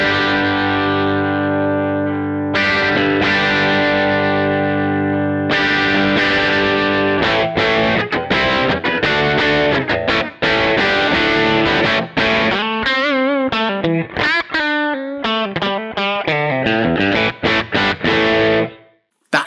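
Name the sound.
guitar amp plugin blending Tweed and Plexi presets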